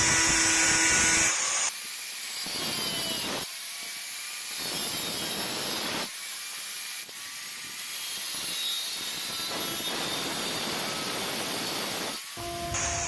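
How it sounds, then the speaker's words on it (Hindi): A cutting tool slices through an electrical board for house wiring indoors, giving several loud, harsh, hissing grinding passes separated by short pauses. "तो इस बोर्ड को हम पहले कटिंग कर लेंगे"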